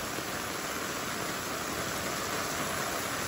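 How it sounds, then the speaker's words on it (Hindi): Heavy downpour pounding outdoors alongside rushing floodwater on a road, a dense, loud, unbroken roar of rain and water with no gaps or voices. "इतनी तेज बारिश हो रही है यहाँ पे इस वक्त।"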